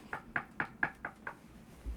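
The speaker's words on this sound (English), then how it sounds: "And I'm gonna knock on some wood now." Five evenly spaced knocks on wood, sharp and close, with a faint low thump at the very end and no talking.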